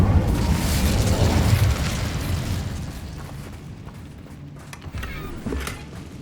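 An Incendio fire spell in Hogwarts Legacy goes off as a loud burst with a booming, crackling flare that fades over a few seconds into quieter rumbling and a few faint pops.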